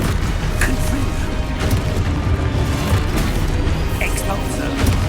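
Fiery Confringo blast spell cast in the Hogwarts Legacy video game, heard as a dense, steady rumble of booming impacts and crackling bursts with a few sharp flares, loud and continuous throughout.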